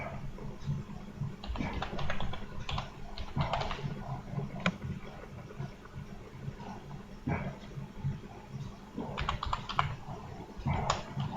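Email ID being typed on a computer keyboard in Tally ERP 9 accounting software, a steady patter of close key clicks with brief pauses between bursts, no voices.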